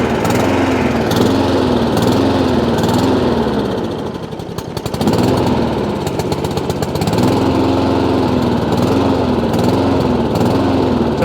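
A Honda Izy petrol lawn mower engine runs loud and close with a carburettor fault, its drone steadily rising and falling as it hunts, with a brief dip and rattle midway.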